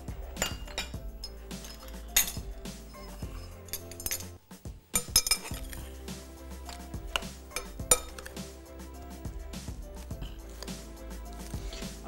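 Sauce mixed with plain mayo in a bowl, the utensil clinking and scraping against the dish in quick, irregular strokes over a low background hum, no speech.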